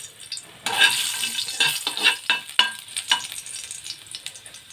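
Garlic dropped into hot cooking oil bursts into a loud, steady sizzle, with scattered sharp crackles and pops over the frying hiss.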